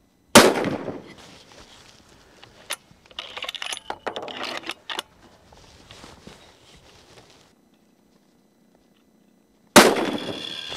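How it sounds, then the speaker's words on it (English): A Ruger Precision Rifle chambered in .338 Lapua Magnum fires two sharp, loud shots about nine seconds apart, each ringing out briefly. A stretch of lighter mechanical clicks and handling noise falls between them. "So we're going to go ahead and get some shots with these"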